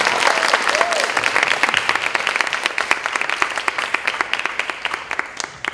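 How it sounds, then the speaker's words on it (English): Concert audience applauding at a drum and dance ensemble show, a dense wash of many hands clapping that thins toward the end into scattered claps, with some crowd voices mixed in. "All right, can I get an applause?"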